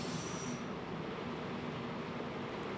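A DR V100 diesel locomotive rolls into Mohlsdorf station on a former line toward Greiz, a loud, steady rumble of wheels and engine with a brief high squeal at the start.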